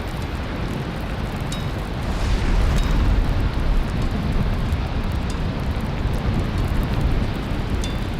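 Steady rain with low rumbling thunder fills a scene in the video game Valheim, a dense, continuous wash of sound that swells slightly partway through, with no talk over it.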